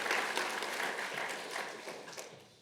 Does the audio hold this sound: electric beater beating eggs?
no